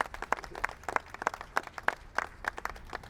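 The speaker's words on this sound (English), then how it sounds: "let's give a round of applause to Torian's running mate here" Outdoor crowd at a Pride flag-raising ceremony clapping, a fairly small group producing distinct, closely spaced claps in an uneven rhythm, moderately close and without speech.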